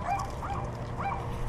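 Small dogs give three short, high yips in an even rhythm, close and fairly loud, with no talking over them.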